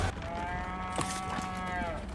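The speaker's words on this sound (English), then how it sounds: "Can I pet the cow? Let me pet the cow." A cow in Resident Evil 4 (2023) gives a long, drawn-out moo lasting a couple of seconds, loud and clear over steady game background sound.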